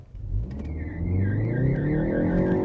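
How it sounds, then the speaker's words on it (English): A 2020 Ford Focus ST accelerates at full throttle, its engine note climbing steadily and loudly from inside the cabin, with a faint whine rising over the roar. "I'm just going to pound the throttle and we'll see what happens"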